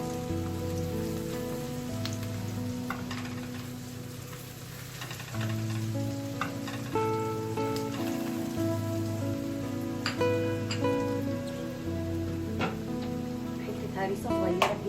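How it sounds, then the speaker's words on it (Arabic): Onion and garlic sauté in a hot pan, a steady loud sizzle and crackle that runs throughout, with faint clinks of utensils and someone talking over the frying. "هنجيب مع بعضينا سن الثوم عشان يتشوح مع البصل"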